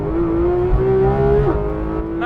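The engine of a 2019 Porsche 911 GT3 RS revs loudly and close by, a strong sustained tone that climbs gradually, breaks briefly near the end and then settles.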